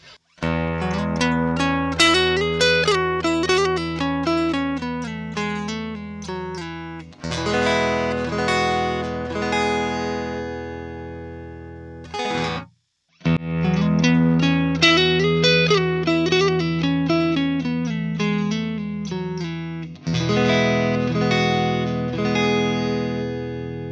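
Electric guitar played through an Origin Effects Revival Drive overdrive pedal into an amp, gritty, buzzy and brittle, with a repeated riff and sustained distorted chords, loud and close, pausing briefly midway.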